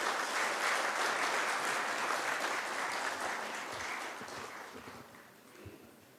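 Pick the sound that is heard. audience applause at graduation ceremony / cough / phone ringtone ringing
audience applause at graduation ceremony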